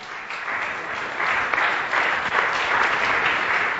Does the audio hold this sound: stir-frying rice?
no